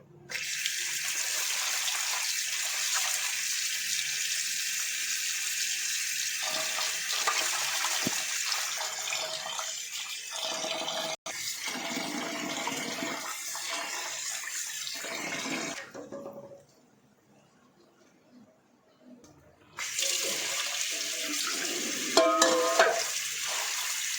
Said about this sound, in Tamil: இப்படியே மீனை ஒரு 3-4 தண்ணி நல்லா அலசி கழுவி எடுத்து வச்சுக்கிறோங்க.